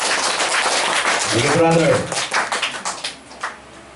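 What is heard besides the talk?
congregation applauding for the Lord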